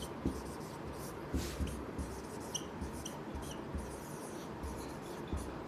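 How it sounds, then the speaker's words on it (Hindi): Chalk or pen writing an equation on a board during a class 10 polynomials lecture, with continuous scratchy strokes and periodic taps as symbols are formed, steady and close with no talking. "ये एक समीकरण लिख लेते हैं।"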